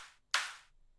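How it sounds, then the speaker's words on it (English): A short, bright clap or snare drum sample hit once after a fainter preceding tail, sharp attack and quick decay, close and isolated. "exactly the same thing here with this clap. Let me see. With this clap or snare"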